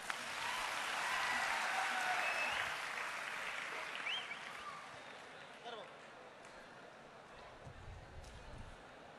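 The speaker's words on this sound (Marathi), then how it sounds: "याच्यासाठी टाळ्या वाजा जोरात" A crowd at an outdoor political speech in Chalisgaon bursts into loud, dense clapping that swells over the first few seconds, then thins and fades into scattered claps and murmuring voices.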